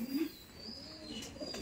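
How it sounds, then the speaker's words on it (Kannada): Pigeons kept at a house coo softly in a short low burst at the start, with faint chirps and background noise following, fairly quiet and close. "ನೋಡಿ ಪಾರಿವಾಳ ಉಂಟು, ಪಾರಿವಾಳ."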